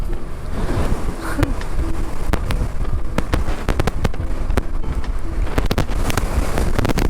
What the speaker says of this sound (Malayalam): ഓ, മുട്ടൻ കാറ്റ് എന്ന് പറഞ്ഞ മുട്ടൻ കാറ്റ്